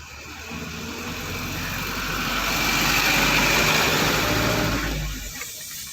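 A school van drives past, its engine rumble swelling from moderate to a loud close peak mid-way and then fading as it moves off, with no talking.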